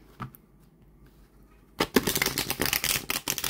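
Tarot cards are riffle shuffled: a few soft handling taps, then a loud, close, rapid flutter of cards interleaving for nearly two seconds, ending in a snap.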